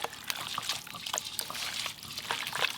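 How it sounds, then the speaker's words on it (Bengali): Mustard oil poured over chicken pieces with kasuri methi and salt, a soft close trickle with faint wet patter and clinks, no talk. "স্বাদ মতো লবণ আর দেবো সর্ষের তেল"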